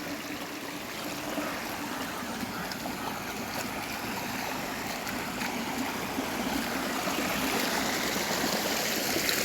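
After a single rainfall, a small stream rushes in a continuous, even wash of flowing water, close and steady with no pauses, growing slightly fuller toward the end.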